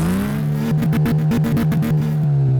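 Porsche 911 Turbo 964 engine in Car Mechanic Simulator 2018, a loud steady idle hum that pulses through a quick series of rhythmic revs before settling back, close and alone.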